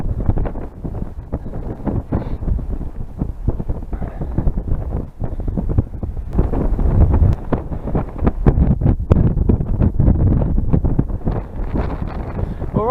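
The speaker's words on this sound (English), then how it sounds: "when I turn round we get a real idea of the wind" Strong wind buffets a hill slope during slope soaring with a model glider, loud gusty roaring and rumbling right at the microphone throughout.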